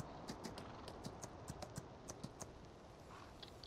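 Horse hooves clip-clop at a steady walking rhythm in Farming Simulator 19, a moderately loud, evenly spaced series of sharp knocks over a soft background, with no talking.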